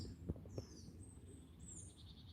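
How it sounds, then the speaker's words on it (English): Crows, magpies and wood pigeons call near a creek, faint chirps and calls scattered in the distance over a soft outdoor background with a couple of low thumps. "You've got crows and magpies in the distance, wood pigeons."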